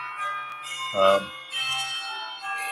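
A phone ringtone of chiming Troy church bells with bright sustained tones, a brief low thump in the middle, playing at moderate volume.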